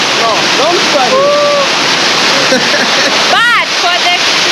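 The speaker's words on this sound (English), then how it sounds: "What's there? Waterfall." An outdoor waterfall roars as a loud, steady wash of rushing water, with brief rising and falling voice-like tones over it.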